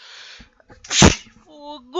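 A single sharp, close sneeze bursts out loudly from a person playing Minecraft, with a brief spoken exclamation just before it and game sounds after.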